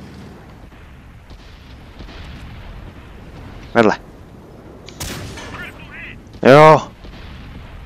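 Tank cannon shots from World of Tanks on Xbox One: two sharp, loud blasts a few seconds apart with ringing tails, heard over a low engine rumble while someone speaks briefly.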